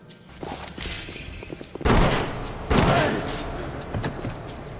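Two heavy gunshots boom out in BioShock's Fort Frolic, each a loud blast with a reverberant tail, separated by under a second, amid scattered smaller clicks and thuds.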